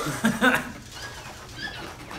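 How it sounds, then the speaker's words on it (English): A bunch of birds flapping their wings overhead in a television studio, two quick close flurries of wingbeats followed by softer scattered fluttering and rustle. "We got a bunch of birds up there."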